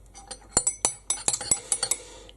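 Metal spoon stirring a tea bag in a mug with UHT milk, a quick series of bright clinks against the ceramic, close and alone without speech.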